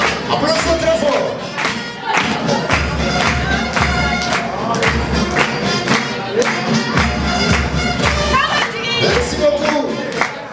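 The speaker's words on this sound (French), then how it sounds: "Applaudissez très fort." Audience clapping at a school cultural day, a dense, steady patter of many hands with crowd noise and occasional thumps, sustained throughout.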